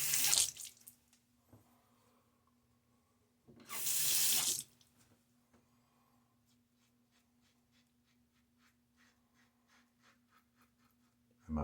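A bathroom tap runs hard in two brief loud gushes as a face is rinsed after a wet shave, with quiet splashes and drips in the gaps and another burst of water at the end.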